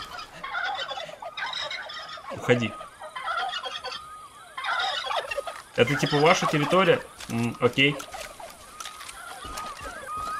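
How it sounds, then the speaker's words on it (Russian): Turkeys gobbling in a video game, loud bursts of rapid warbling gobbles repeating in clusters, close and overlapping, with someone talking between and over them. "Меня сейчас завалят сраные индюки."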